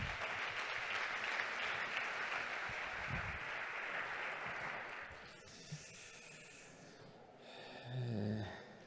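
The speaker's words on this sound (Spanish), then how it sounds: "Recibámoslo con un aplauso, por favor." Audience applause welcoming Vicente Gallardó, president of FGK, at a heating-sector conference: a dense, steady wash of clapping for about five seconds, then thinning out into scattered rustles and a few faint, close noises.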